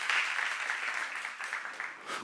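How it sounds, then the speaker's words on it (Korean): Clapping from a congregation at a Korean church seminar sermon, a brief, even roar of many hands lasting about two seconds with no speech over it. "박수 하세요"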